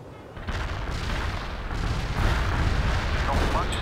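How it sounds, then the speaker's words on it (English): Artillery barrage fire in the strategy game World in Conflict, a dense, continuous roar of distant booms and rumbling blasts that swells slightly, with no talk over it. "Bringing down that artillery here, Commandant."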